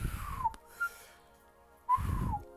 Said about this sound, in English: I'm trying to whistle.